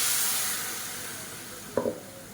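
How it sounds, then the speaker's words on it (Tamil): Ground tomato paste hits hot oil in a pan for Tamil-style tomato chutney, giving a continuous hissing sizzle with a brief clatter near the end. "இப்போ நம்ம அரைச்சி வச்சுருக்க அந்த தக்காளியை இதில் சேர்த்துக்கலாம்"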